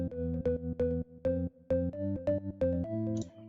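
A house beat runs through delay and compression: punchy, plucked synth notes hit in a bouncing rhythm with short echoing tails, clean and upfront with no voices.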